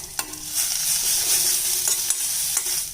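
Asafoetida powder dropped into hot oil already holding crushed ingredients and curry leaves for rasam, giving a steady close sizzle and frying hiss with a few stirring clinks, and no voices.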